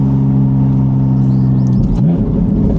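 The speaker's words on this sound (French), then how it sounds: "Oh là là, puis c'est gras l'échappement, c'est généreux" Porsche Boxster hybrid with a 3.2 engine, close and loud, a deep steady exhaust drone that swells into a throaty rev near the end.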